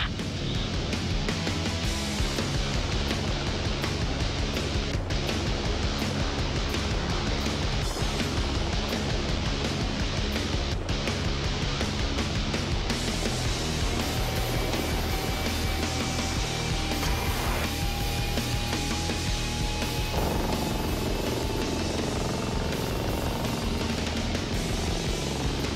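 V-22 Osprey tiltrotor aircraft in flight, a loud steady drone of rotors and engines heard from on board, with a rising whine partway through.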